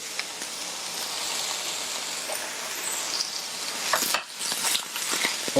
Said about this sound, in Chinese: 再炒一下